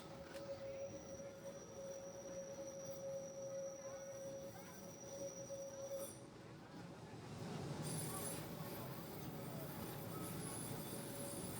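A Santa Teresa tram in Rio de Janeiro rumbles steadily along its rails, a continuous low rolling noise with a long tonal whine, growing louder and harsher near the end.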